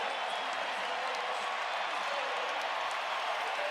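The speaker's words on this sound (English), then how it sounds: "a standing ovation for the 2023 NBA champs" Loud, dense crowd applause and cheering from a Denver arena audience giving a standing ovation at an NBA playoff game between the Nuggets and the Thunder, sustained evenly throughout as a wide wash of clapping.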